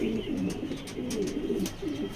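Male racing pigeon, a tiger grizzle cock, cooing nearby in a repeated rhythmic series of low throaty coos, with faint background chirps.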